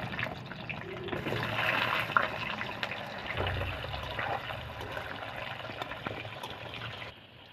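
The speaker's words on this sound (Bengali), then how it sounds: "কেটে রাখা আলুগুলি এটার সাথে ভেজে নেব।" Cut potatoes fry in hot oil with bay leaf and cumin in a pan, giving a steady close sizzle and crackle that runs for several seconds before easing off.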